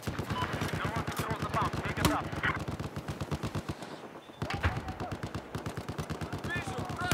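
Rapid gunfire from an AEK 971 rifle in Battlefield 4, a dense rattling string of close shots that pauses briefly then resumes, with someone talking over it.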